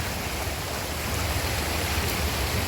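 Huay Chang waterfall in Pai, Thailand gives a steady, full rush of falling water that stays loud and even throughout, with no talk.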